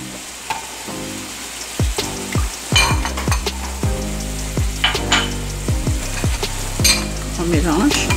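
Tomato paste sauce with a spoonful of soft cheese and a splash of water being stirred in a pan for a rosé seafood sauce, with steady sizzling under repeated scraping strokes of a spoon and occasional clinks of utensils against the pan.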